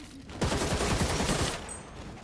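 Gunfire in Gotham Knights: a rapid volley of close shots rattles for about a second, then cuts off abruptly.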